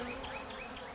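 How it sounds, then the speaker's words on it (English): A dense, steady buzzing of many robber bees swarming a beehive close by, a continuous droning hum with no pauses. "The robbers are just overwhelming the bees that lived here and taking their honey."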